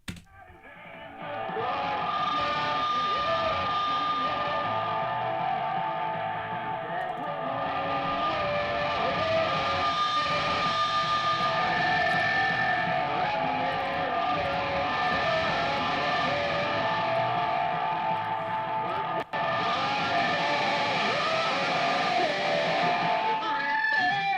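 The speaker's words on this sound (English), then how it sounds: "that's what we got with the phone feeding back into the monitor speakers" Sustained, howling feedback from a rotary phone microphone held to a high-gain guitar amp's speaker, with wavering tones that swell and shift for over twenty seconds and a sharp click near the end.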